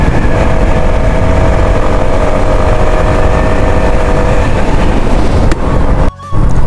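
A motorcycle rides the long road from Kaptai to Cox's Bazar, with a loud, steady engine drone and wind rush that drop out briefly near the end.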